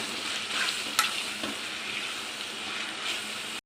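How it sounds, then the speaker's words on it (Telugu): Half a kilo of washed minced mutton keema fries on high flame in a pan, a loud, steady close sizzle and hiss with occasional scraping knocks of stirring, and no talking. "ఇలా కీమా వేసేసుకొని బాగా మిక్స్ చేసుకోవాలండి. హై ఫ్లేమ్లో పెట్టుకొని బాగా ఫ్రై చేసుకోవాలండి"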